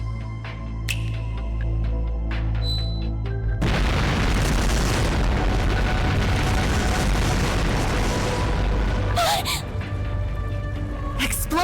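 A massive explosion roars through a game scene in Trails through Daybreak, a sustained thundering rumble that follows quieter music and continues for several seconds before a sharper burst near the end.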